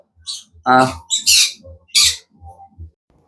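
A green-cheeked conure parrot, yellow-sided variety, lets out a few loud, harsh squawks close by, separated by short gaps, with softer chirps and a faint rhythmic low thumping between them.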